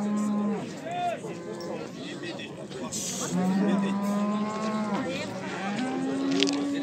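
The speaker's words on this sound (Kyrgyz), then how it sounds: "Жакта чоң уйлар бар экен." Cattle moo repeatedly at a livestock market, long low drawn-out calls from several animals one after another at close to middle distance, with people talking and faint traffic noise in the background.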